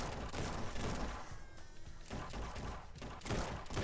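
Rapid, loud gunfire crackles in bursts throughout the VR shooter Guns 'N' Stories Bulletproof, dense repeated shots with brief lulls between volleys, close and continuous.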